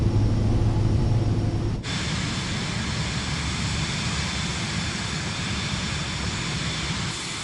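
Airplane engine roaring in Microsoft Flight Simulator 2024 during a takeoff run on a narrow runway, a steady loud broadband drone that shifts abruptly in tone partway through and then holds, with no talking.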